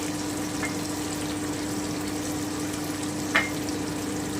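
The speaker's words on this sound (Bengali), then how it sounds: "আমি আরেকটুখানি ভেজে নিচ্ছি" Cumin paste and tomato frying in a pan for a potato dal with rui fish, a steady soft sizzle with a faint hum and a couple of brief utensil ticks.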